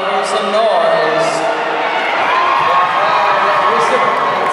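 A crowd at a men's roller derby World Cup bout between Canada and Australia roars and cheers continuously at high volume, a dense, steady wash of voices with scattered whoops and claps, loud and enveloping throughout.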